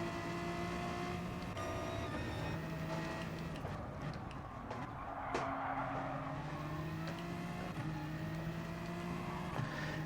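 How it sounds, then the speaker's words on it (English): Engine of a BMW race car in a PlayStation racing game on a Sardinia track, a steady droning whine holding on through about ten seconds with slight pitch shifts and no talk. "I'm going to get some hardcore Sardinia practice on in the BMW"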